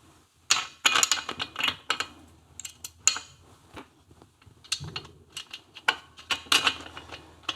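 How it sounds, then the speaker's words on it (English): A small T-handle wrench turns while a machined points cover is fitted to a Triumph Tiger Cub engine in a workshop, giving scattered metallic clicks and ratcheting taps in irregular bursts, close up, with no talk. "My little T-handle wrench."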